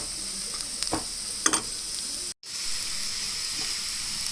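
Stirring chili powder into potatoes frying for aloo fry, a steady close sizzle of hot oil with a few louder scraping stirs and a brief dropout midway.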